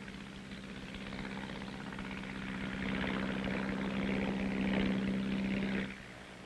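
A military artillery fire control propeller plane drones steadily overhead, its engine hum growing louder and then dropping off sharply near the end.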